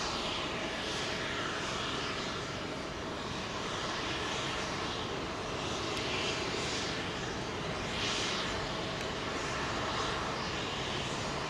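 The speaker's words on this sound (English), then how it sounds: "Delhi bound 787 Dreamliner" A Boeing 787 Dreamliner bound for Delhi at London Heathrow, its engines giving a steady, fairly distant roar with a broad rumble. The sound rises slightly and falls back over several seconds, with no talking.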